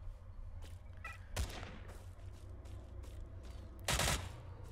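Gunfire in the video game STALCRAFT: two sharp bursts of shots, one near the start and a louder one near the end, over a steady low ambient hum.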